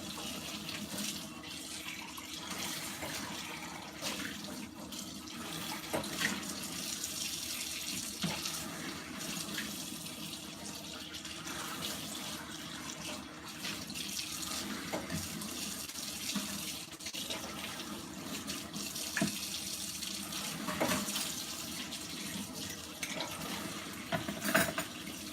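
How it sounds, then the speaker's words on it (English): A kitchen tap runs steadily into a sink while dishes are rinsed, a continuous close splashing hiss with small clinks and shifts in the flow. "So I'm just turning the water on, and we're just gonna rinse them."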